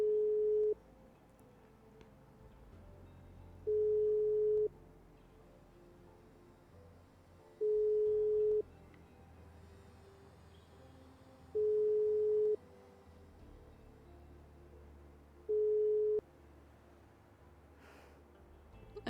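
A phone call in a GTA video game fails to connect: a repeating busy-signal beep sounds about every four seconds, each tone lasting about a second, over faint low background hum.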